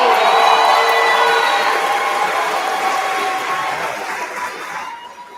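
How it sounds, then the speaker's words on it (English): At a high school class of 2023 graduation ceremony, a large audience cheers, whoops and claps loudly, the roar slowly fading over several seconds before dropping away. "one more round of applause and wave to your family"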